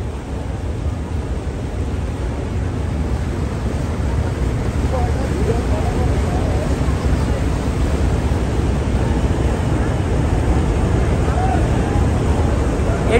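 Passenger launch ships carrying thousands of people toward Dhaka on a river after the Charmonai mahfil gathering, heard as a loud, steady, unbroken engine and water rumble filling the whole stretch.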